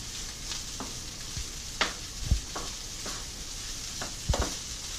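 A spatula scrapes and stirs a heavy load of fried rice in a pan over a soft continuous sizzle, with about eight distinct scraping strokes in a loose, unhurried rhythm and no talking.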